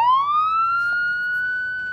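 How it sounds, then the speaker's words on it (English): A single siren tone sweeps upward and holds steady, loud and close, with no talking. "I heard the ambulance sound."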